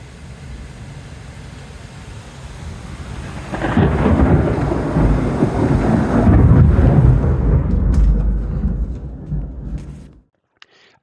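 A heavy thunderclap during a storm in Calheta, Madeira rolls in after a few seconds of steady rain and rumbles loudly for several seconds before cutting off abruptly.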